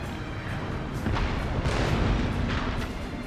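Cannon fire in Shogun 2: Fall of the Samurai, a dense, rumbling wash of booming artillery blasts that runs without a break, with heavier surges partway through and no clear single shot.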